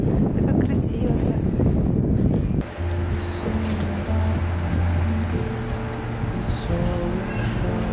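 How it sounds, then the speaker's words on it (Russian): Strong gusts of wind buffet the microphone with low rumbling roar beside a canal in Amsterdam, then ease into steadier background noise with faint tonal hum. "Ветер задувает, конечно."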